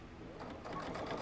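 Sewing machine stitching a puff quilt, a brief steady mechanical whir with rapid needle ticks, close and fairly quiet.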